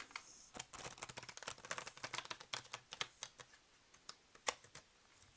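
Rider-Waite tarot cards being shuffled, a faint, close series of irregular crisp flicks and taps with no talking.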